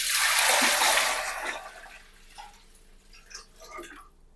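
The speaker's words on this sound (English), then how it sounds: "what we're going to do is tip all the water in." Water tipped from a jug into bread flour in a stand mixer bowl gives a loud rushing pour that tapers off after a second or two, followed by faint drips and small splashes.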